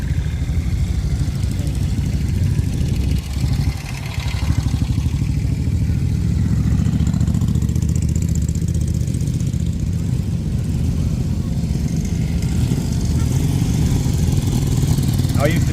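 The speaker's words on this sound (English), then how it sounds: "We're going to get a fantastic array of motorbikes here today." Sidecar motorcycles rumble steadily as they enter the arena at a steam and vintage rally in Sheffield, UK, with a commentator's voice running over the continuous engine drone.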